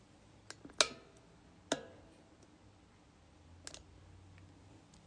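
Scissors snipping embroidery thread: a few sharp, isolated clicks spaced apart, close and fairly quiet against a near-silent room, no speech.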